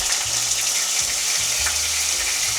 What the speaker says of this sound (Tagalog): So, ilalagay na natin yung ating pork sa oil.